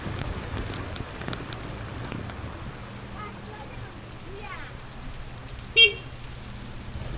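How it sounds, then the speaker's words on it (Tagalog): Heavy rain pours down steadily outdoors on a road trip through Tawi-Tawi, a constant hiss close by, with faint passing vehicle noise and a brief sharp sound near the end. "Grabe, lakas ng ulan."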